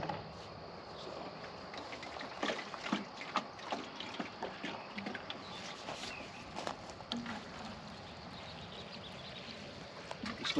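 Fertilizer water is poured over tomato plants in a kitchen garden, a soft, uneven splashing and trickling with small clatters, fairly quiet against outdoor background noise.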